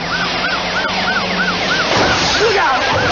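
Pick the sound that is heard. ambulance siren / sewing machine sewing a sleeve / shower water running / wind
ambulance siren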